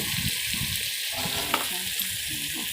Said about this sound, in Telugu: కారం యాడ్ చేసుకున్న తర్వాత మళ్ళీ వేయించాలి.